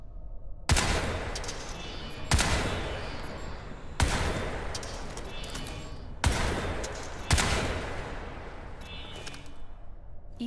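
Rapid automatic gunfire from a weapon in the Crysis 3 video game, loud and close, sounding as several sustained bursts separated by short pauses.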